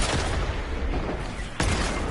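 Gunfire in a battle royale shooter: dense, continuous booming shots and blasts fill the clip loudly, with a sharp fresh impact near the end.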